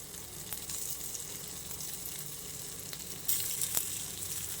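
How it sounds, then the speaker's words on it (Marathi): Coriander vadi shallow-frying in a little oil in a pan makes a steady, soft sizzle, broken by a few faint clicks and a brief louder crackle partway through, with no talking. "त्या पॅनमध्ये आपण थोडंसं तेल घालूया एकदम कमी आणि त्यामध्ये आपण ही वडी घालूया"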